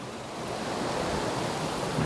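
A small stream at a spring resort flows in a steady, close broadband rush of water that holds even throughout, with no voices.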